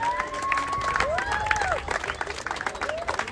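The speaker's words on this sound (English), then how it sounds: "A big round of applause." Outdoor car show crowd in Edina applauding the vehicle owners, a steady dense patter of many hands clapping with whoops and cheers mixed in, fairly close and loud throughout.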